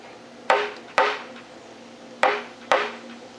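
Four sharp wooden knocks from a mallet, in two pairs with a pause between, close and clear with no talking.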